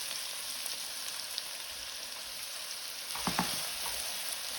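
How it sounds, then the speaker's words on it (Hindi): Chopped onions fry in oil in a karahi, a soft, steady sizzle with a few brief stirring scrapes near the end. "अनियन को हम जो है वो मीडियम फ्लेम पे फ्राई करेंगे जब तक ये गोल्डन ब्राउन हो जाएगी"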